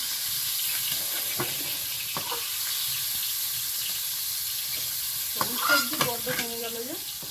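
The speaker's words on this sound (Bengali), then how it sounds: "হলুদ দিয়ে ভেজে নিচ্ছি" Vegetables fry with turmeric in oil in a wok, giving a steady close sizzle, with a few stirring clatters near the end.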